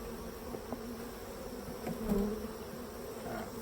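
Honey bees buzz around a beehive, a faint, steady insect drone with a few louder passes as individual bees fly near.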